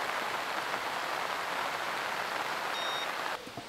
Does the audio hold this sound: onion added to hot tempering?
no